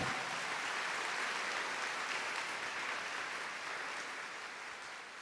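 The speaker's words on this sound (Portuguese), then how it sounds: "Uma salva de palmas para São Miguel Arcanjo." Distant congregation applause during a Catholic priest's sermon, a steady wash of clapping that slowly fades out.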